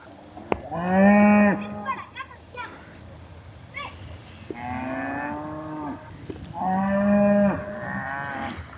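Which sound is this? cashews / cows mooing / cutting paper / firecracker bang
cows mooing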